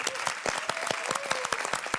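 Applause from the crowd at a Clash Royale clan war esports event, a steady dense patter of clapping that fills the moment, with a faint voice running underneath.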